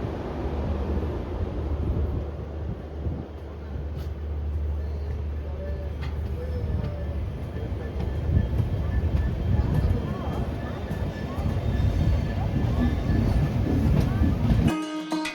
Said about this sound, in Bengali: আমাদের ট্রেনটি তার নির্ধারিত সময়ে 10:40 পুরী স্টেশনের 5 নম্বর প্ল্যাটফর্ম থেকে শালিমারের উদ্দেশ্যে রওনা দিল।